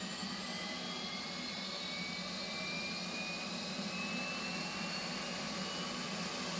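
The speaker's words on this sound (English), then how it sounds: "you're going to turn on the APU on the left console" An F/A-18C Hornet auxiliary power unit spools up in the DCS flight simulator cockpit, a steady loud turbine whine and roar with faint rising tones, continuous and unbroken.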